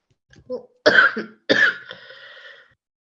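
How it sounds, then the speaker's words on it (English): A burst of harsh coughing, two or three loud hacks in quick succession close to the mic, followed by a trailing wheezy breath. "The cough has taken over."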